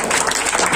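A loud, dense burst of audience applause at an Indonesian event with Basuki Tjahaja Purnama (Ahok), a crowd clapping together continuously and close up, with no talk over it.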